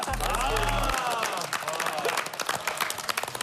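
A studio audience at a Korean TV variety show breaks into applause and light cheering, a busy patter of many hands with a tonal sound effect and voices mixed in at the start.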